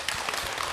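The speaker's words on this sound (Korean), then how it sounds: "네, 박수로 맞으세요. 다시 한번." A short burst of audience applause in a Buddhist monk's question-and-answer session, many hands clapping briefly in a dense wash.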